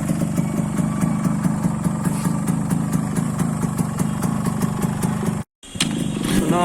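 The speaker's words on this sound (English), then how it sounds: "we are going to hear the bike, how it sounds, and the flyby" A restored motorcycle engine runs steadily and loudly up close, a dense mechanical rumble with brief revving, cutting out for a moment near the end before resuming.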